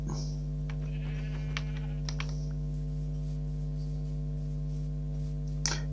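A sheep in a survival video game gives a faint bleat over a steady electrical hum, with clicks and small game sounds around it and no clear speech.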